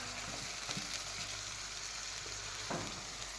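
Tomatoes fry in a pan for a homestyle paneer curry gravy. A steady, close sizzling hiss runs throughout, broken by a couple of soft stirring scrapes.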